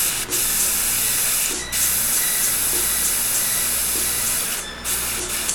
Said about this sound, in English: Try to spray away from the blue instead of toward it.